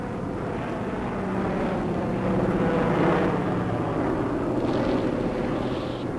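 Propeller-driven warplanes from 1979 wartime documentary footage of Arctic convoy attacks drone continuously, a thick engine roar that swells slightly midway, loud and steady with no speech.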